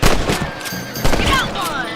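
Gunshots from rabbit hunting in Red Dead Redemption, two loud close blasts about a second apart with ringing tails, a voice speaking over them.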